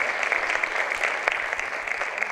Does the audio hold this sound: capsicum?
no